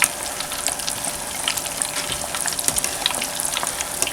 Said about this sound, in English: we're just going to let them fry